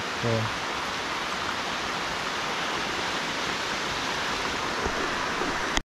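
Heavy rain falls outdoors at a summer fishing spot, a dense, even hiss of drops that holds steady and fairly loud throughout, with a brief knock near the start.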